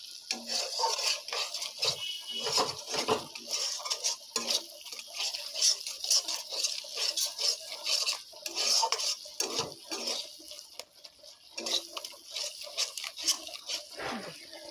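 Potatoes are stirred in oil in a cooking pan, with a spoon scraping and clinking against the metal in quiet, uneven strokes alongside a faint sizzle.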